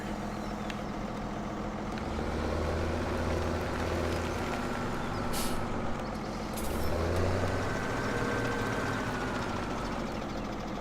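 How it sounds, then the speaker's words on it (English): A tractor engine in Farming Simulator 17 drones steadily as it drives, a dense, continuous mechanical rumble with a low hum that swells twice, loud and close, with no talking. "Let's hop into this tractor here."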